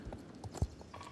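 Faint hoofbeats of a horse trotting in the video game Star Stable Online, a brief soft clip-clop with one heavier hoof strike.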